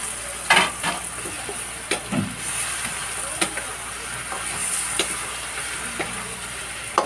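Pork ribs dropped into a pot of softened tomatoes for sinigang, frying with a steady close sizzle and stirring scrapes, a few sharp clatters and bursts breaking through the continuous hiss.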